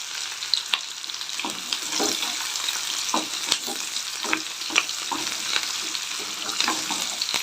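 Sliced onions and curry leaves sizzle and crackle steadily in a hot pan, with occasional stirring scrapes and spatters, close and continuous without any talking.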